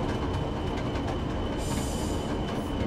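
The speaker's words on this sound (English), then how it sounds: "we're gonna have to be very, very careful driving this train" A BR Class 40 diesel hauling heavy freight in Train Sim World gives a steady, loud rumble of wheels and engine, continuous throughout with a faint higher hiss partway through.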